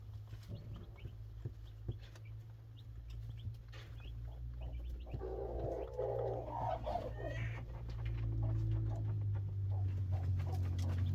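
Chickens in a backyard coop on a warm day, with clucking and fowl calls scattered over a steady low hum, growing busier and louder toward the end.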